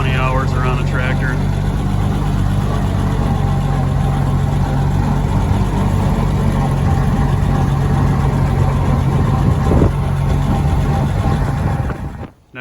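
An Oliver farm tractor idles with its distinctive whine, a loud, close, steady engine hum and tone holding for several seconds before cutting off abruptly at the end.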